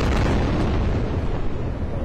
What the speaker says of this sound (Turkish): Duyduğunuz sesler de bomba sesleri dipten gelen.